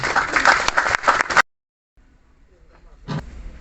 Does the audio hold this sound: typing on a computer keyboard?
no